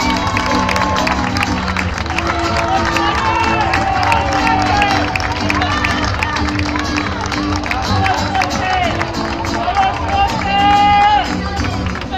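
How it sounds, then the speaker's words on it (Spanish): Crowd at a football club league-title celebration cheers and claps loudly and continuously, a dense wall of applause and voices throughout. "Un fuerte aplauso para José Jorromi."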